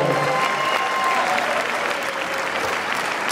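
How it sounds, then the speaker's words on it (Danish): Steady, loud applause from a boxing arena audience welcoming Argentine boxer Betina Garino at a world bantamweight title bout, continuous dense clapping filling the hall with a murmur of crowd beneath it. "Giv hende en hånd fra Argentina"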